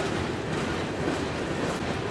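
Southern 8099 freight train rolling past with freight cars, a steady broadband rumble and rattle of wheels on rails, moderately distant and fairly quiet, no voices.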